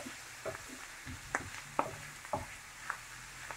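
Chopped carrots, courgettes, peppers and onions are stirred in a pan, giving a series of soft scraping and clacking strokes spaced about half a second apart over a faint background sizzle.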